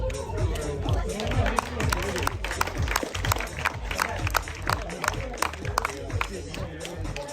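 Applause for duathlon winners at a Suure-Jaani race, a scattered, steady patter of outdoor clapping mixed with crowd chatter and voices during a podium photo session.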